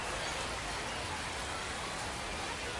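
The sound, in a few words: rain falling at a baseball ballpark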